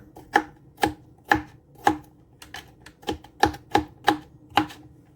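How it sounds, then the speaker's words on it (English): A knife chops vegetables for an egg and veggie stew on a cutting board, giving about a dozen crisp, evenly spaced thunks close up that quicken slightly toward the end. "So the next step is to cut up the veggies."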